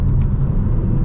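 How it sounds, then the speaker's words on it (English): Steady, loud engine rumble and road noise from inside a 2025 BMW M3 Competition sedan being driven, a continuous low drone with slight swells, no talk over it. "this is what it's like to be behind the wheel for the BMW M3"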